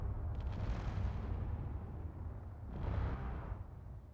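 Homing missiles launching and detonating in the space sandbox game Space Engineers: dense, rumbling explosive bursts rolling one into another, with a second swell of blasts near the end. No talking is heard.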